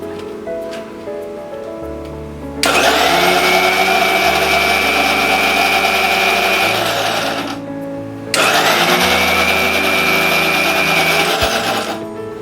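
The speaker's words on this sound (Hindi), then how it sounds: "ब्लांच्ड पालक हम इस मिक्सर में डालेंगे।" A kitchen mixer blends blanched spinach with a little water into puree, roaring loudly in two long whirring bursts separated by a brief pause, with a lower motor hum underneath.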